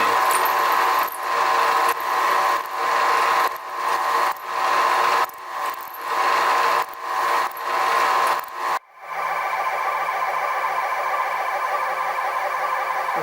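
A milling machine cuts soft, leaded steel at very slow speed, giving a rhythmic series of grinding pulses, then a steadier, quieter motor hum takes over.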